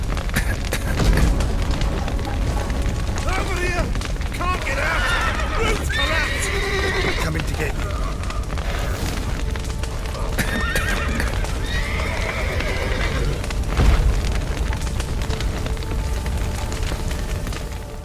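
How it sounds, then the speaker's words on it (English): In The Witcher 3 game, horses whinny repeatedly amid a burning building, with hooves clip-clopping and crackling fire beneath, dense and loud, while voices talk over the scene. "The horses!"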